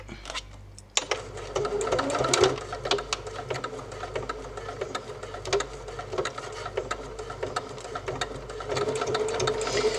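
A sewing machine stitching a fabric food cover runs at a steady, rapid mechanical patter close by, starting after a short quiet moment and continuing without a break.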